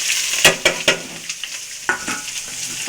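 Chopped green chillies and onions go into a hot pan for tomato curry, giving a sharp sizzle with several quick scraping stirs, close and loud, without any talk.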